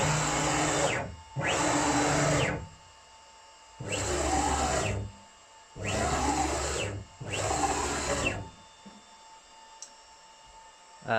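A CNC router on a frame kit jogging up on its Z axis and then in 20 centimetre moves, giving five loud, steady motor whines of about one second each, separated by short quiet pauses, close and with no talk.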